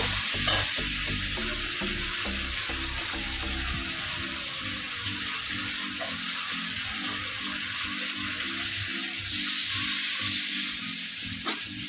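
Prawns and fish frying and being stirred in a pan, a steady loud sizzle with scraping stir strokes and a brief splash of running tap water near the end.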